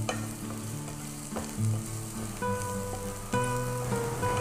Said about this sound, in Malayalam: നമുക്ക് ഈ പൊടികളൊന്ന് നന്നായിട്ടൊന്ന് വഴറ്റിയെടുക്കണം.